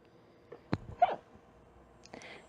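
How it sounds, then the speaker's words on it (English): A person hiccups a few times with short, sharp bursts, the loudest near the middle, along with some breathing, fairly close and quiet against faint background noise. "Sorry, I've kind of got the hiccups."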